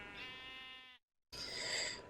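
Two sheep bleats from Minecraft, each a wavering tone held for about a second, one slightly lower and one higher and brighter, split by a brief silence.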